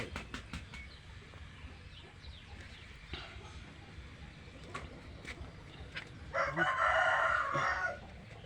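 A rooster crows once, loud and close, over a quiet rural farm background with scattered faint clucks and bird sounds before it.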